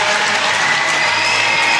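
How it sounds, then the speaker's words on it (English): Crowd applause at an ice hockey game in Cockburn Ice Arena, a steady, dense wash of clapping that fills the whole stretch at even loudness. "An appreciative crowd down here at Cockburn Ice Arena"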